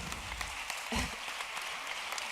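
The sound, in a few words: audience applause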